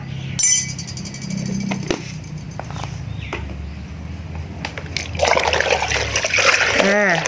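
Water mixed with dissolved MSG fertilizer is poured onto potted taro plants, giving a steady close splashing trickle that grows heavier toward the end, under continuous spoken narration.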